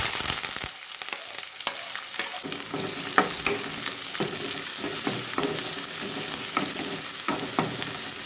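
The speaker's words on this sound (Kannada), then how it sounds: "ಉಳ್ಳಾಗಡ್ಡಿನ ಸ್ವಲ್ಪ ಫ್ರೈ ಮಾಡ್ಕೊಳ್ತೀನಿ" Onion fries in oil with mustard seeds and cumin as a tempering for a home-style ridge-gourd stir-fry; a constant close sizzle runs under a series of sharp ladle scrapes and taps against the pan, with no voices.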